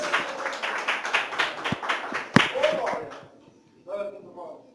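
A church congregation claps in steady rhythmic beats to welcome a preacher. The claps are sharp and close, then fade out into quieter speech.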